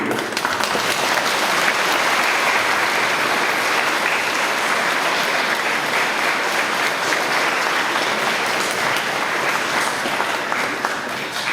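A church audience at a parish bicentenary celebration claps steadily for a priest, dense sustained applause filling the hall without pause.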